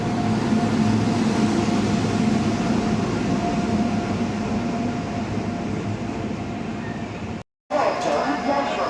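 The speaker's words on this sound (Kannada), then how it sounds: "ನಮ್ಮ ಟ್ರೈನ್ ಬಂತು." A steady, heavy rumble and hum of a train at a station, continuous and loud, with a brief dropout near the end before the noise resumes.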